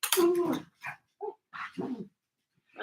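A dog barks and yelps in a few short, excited bursts, close by, with brief gaps between them.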